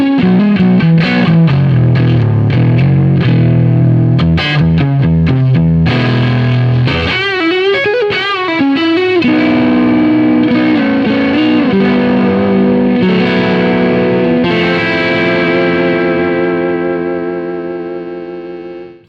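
An electric guitar played through a Dumble amplifier using a new Strat's neck pickup rings out loud and sustained, with thick chords and singing lead notes, a warbling bend in the middle and a long ringing fade at the end.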